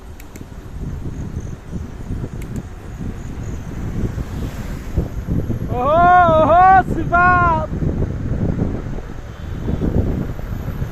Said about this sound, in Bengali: বাহ কি বাতাস